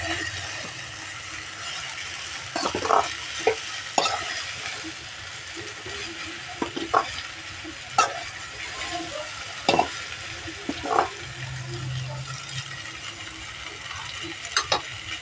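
Okra frying in a pan for a home-style poriyal, a steady broadband sizzle punctuated by sharp scraping clicks of a spatula stirring, irregular and close, with no talking.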